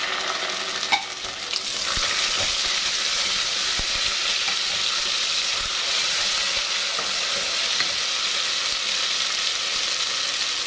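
Onions fry in a pan as tomato paste is stirred in, giving a loud continuous sizzle with occasional scraping stirs and small clinks, close and steady throughout.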